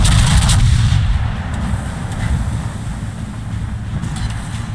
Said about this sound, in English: We just got to get one good salvo, and then we can win the health trade.